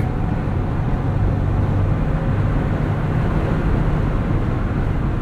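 2020 Jeep Wrangler Rubicon with a 3-liter EcoDiesel engine and 8-speed gearbox pulls hard while passing, a steady, dense low drone of engine and road roar heard from inside the cabin.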